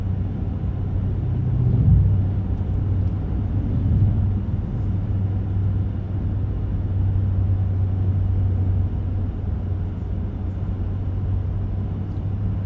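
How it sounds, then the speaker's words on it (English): A truck's steady low engine idle rumbles continuously, close by and even, with no voices over it. "The engine sounds good."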